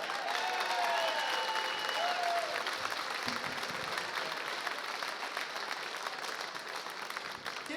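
Audience applause at a Chicago comedy club as comedian Vince leaves the stage, steady dense clapping with crowd noise throughout, faint voices and whistles mixed in.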